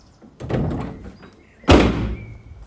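A 2019 Ford Transit 2.0 EcoBlue 350 L3H3 van door is pushed shut with a loud, sharp slam after a softer opening rumble, close by with no speech.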